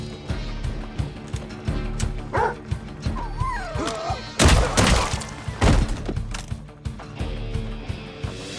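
A dog gives a few sharp barks and yips amid a busy action scene, with thuds and impacts around them, fairly close and loud.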